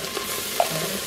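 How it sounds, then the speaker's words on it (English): Garlic cloves sizzle in a hot Instant Pot while being stirred, a soft steady frying crackle with a faint scrape. "now we're going to put in 4 cloves of garlic"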